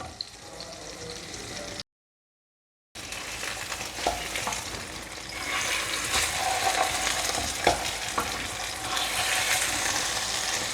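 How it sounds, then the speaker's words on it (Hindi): Spinach-stuffed potato cutlets frying in melted butter in a pan, giving a steady crackling sizzle that briefly cuts out, then returns louder and busier, with occasional pops. "फिर हम अपनी कटलेट्स फ्राई करते हैं।"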